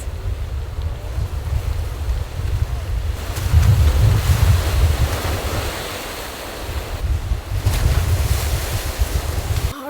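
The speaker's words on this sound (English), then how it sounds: "you've got these huge crashing waves coming up over it" Huge ocean waves crash over hardened lava on the Maui coast along the Road to Hana, a loud continuous roaring surf with swelling surges and heavy wind noise on the microphone.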